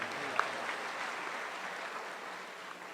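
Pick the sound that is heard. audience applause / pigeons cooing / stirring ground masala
audience applause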